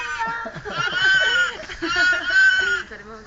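A sheep bleating in a long, wavering, nasal cry, repeated in two or three drawn-out calls close by, with faint talk in the background.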